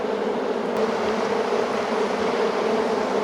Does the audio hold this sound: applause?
no